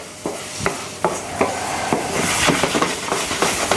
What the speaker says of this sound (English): we've now got the onions frying, the garlic